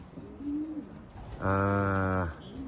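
Pigeons coo at a loft during a race arrival, with a soft low call early on and then a loud, close, sustained cooing burst lasting about a second before fading back to quiet.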